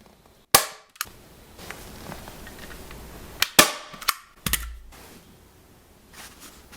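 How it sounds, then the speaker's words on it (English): Staple gun firing into chair seat upholstery, several sharp loud snaps spaced irregularly, two close together near the middle, with quiet handling sounds between. "Staple it in place."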